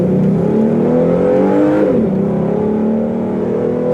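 A loud Ford Mustang muscle car engine hums and revs steadily nearby, its pitch dipping briefly midway before settling back into a smooth, throaty drone.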